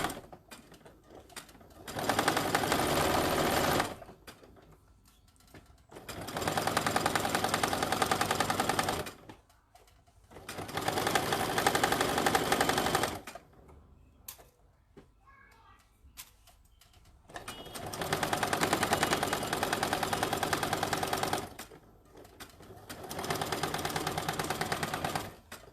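A sewing machine stitching a tote bag seam runs in four long rapid buzzing bursts, close and loud, separated by quiet pauses with faint handling noises.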